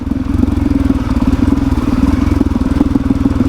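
A Suzuki DRZ400E dirt bike chugs at low revs over a steep, rough outback track in Cape York, Australia, a loud close pulsing single-cylinder thump with clattering.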